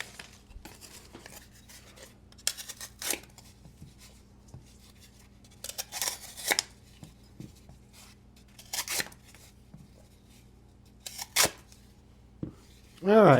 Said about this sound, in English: it's cutting through the paper